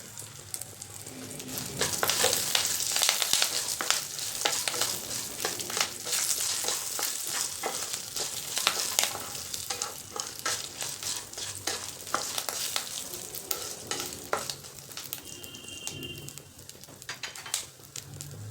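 Cashews and curry leaves frying in oil in a pan with chilies and peanuts for lemon rice, a continuous close sizzle with crackles and stirring scrapes, no talking.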